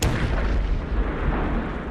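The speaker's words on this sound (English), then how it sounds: "But suddenly, explosions were heard." Deep, heavy booms roll out from a warehouse fire that held saltpetre, a low rumbling blast sustained across the whole stretch, loud and reverberant, with no voices over it.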